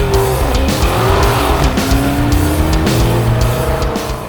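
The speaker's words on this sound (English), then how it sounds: "Now think about the supercharger and put your foot down and you've got the fastest sedan in the world in your hands." A supercharged Dodge Hellcat Charger sedan accelerates hard and loud, its engine note climbing steadily through gears with brief shift breaks and a sustained close roar throughout.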